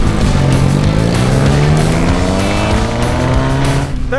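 A two-wheel drive car works its engine hard at an offroad park, loud and close, with steady revving and shifting pitch that slides up and down, drifting tones suggesting wheels spinning, continuous for several seconds before cutting off.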